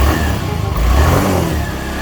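Honda Mio i 125 scooter engine running after a CVT and pulley drive service, a loud, close, smooth buzzing drone that swells and eases in short revs.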